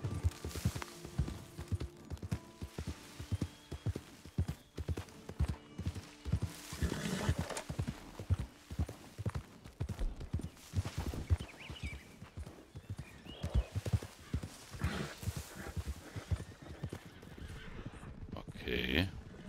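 A horse gallops in the online mode of the video game Red Dead Redemption 2, quick rhythmic hoofbeats thudding close with occasional neighs, and a voice talking briefly in the background.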